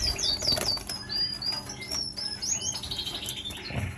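Many stout, large-headed canaries chirp in an aviary, with bright, overlapping, busy twittering and trills close by, plus some soft wing flutters, and nobody talks.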